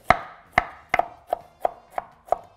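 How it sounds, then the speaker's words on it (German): Cauliflower trimmings are chopped finely on a board, with seven sharp knife strikes at a steady, even rhythm, close and loud with no talk. "Die Abschnitte fein hacken."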